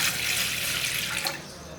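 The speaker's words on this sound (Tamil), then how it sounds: "இப்போ இதில் ஒரு டம்ளர் அளவுக்கு தண்ணியை" A tumbler's worth of water pours into a pot on a stove to start a papaya-leaf herbal kashayam, giving a steady, close splashing rush for about two seconds with no talk.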